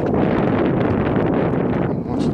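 Strong wind roars steadily across an open RC model flying field, a loud, continuous buffeting rumble pressing on the microphone for the whole stretch with no break.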